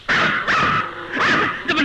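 A dog barks close by in three short, yelping bursts with brief gaps between them.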